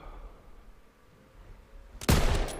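A single sharp, loud gunshot from the World War II shooter Call of Duty WWII bursts in near the end, after two seconds of low, quiet battlefield ambience.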